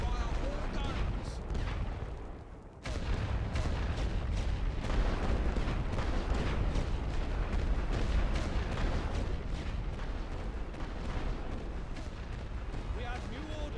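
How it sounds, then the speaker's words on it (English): Artillery barrage in the World War I strategy game The Great War: Western Front: a dense, continuous roll of heavy booms and rumbling blasts, loud and sustained, with a brief dip before the firing swells again, and voices faintly underneath. "Fire all guns."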